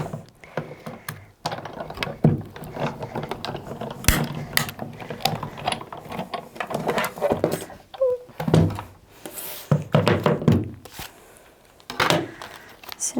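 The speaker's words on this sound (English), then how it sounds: "So I'm just going to pop my clear plate over the top. and roll that through my machine." A die-cutting machine rolls a clear plate through for card crafting, making repeated ratcheting, geared clicks and mechanical clunks in an uneven rhythm, close and fairly loud, with no talking.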